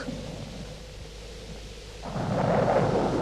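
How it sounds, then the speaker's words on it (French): Thunder from a thunderstorm rumbles low and heavy, then swells louder into a broad roaring crash with rain-like hiss over the final second, alone with no voices. "l'orage va bientôt éclater sur nos têtes"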